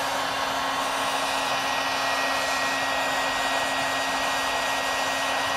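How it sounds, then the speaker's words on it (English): An embossing heat gun warms up with a steady, continuous fan-and-heater whoosh and a fixed low hum, close and unchanging throughout, with no talking. "That's just my embossing gun. I'm letting it get nice and warm."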